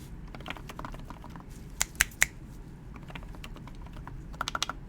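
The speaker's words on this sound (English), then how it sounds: "I'm just going to go ahead and type on it, and then I'll do an actual typing test." Typing on a Sho S60 HG mechanical keyboard: a scattered run of close keystrokes with a few sharper, louder clacks midway and a quick cluster near the end, in a quiet room.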